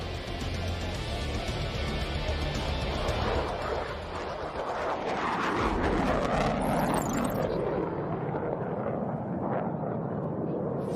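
F-16 Fighting Falcon jets of the 64th Aggressor Squadron roar on their takeoff roll at an air show, a loud, broad engine rumble that swells and then fades into the distance.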